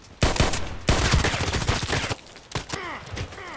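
Gunfire in the shooter game Contract Wars, a few loud, sharp shots in quick bursts, with a brief pause between volleys and a lighter shot near the end.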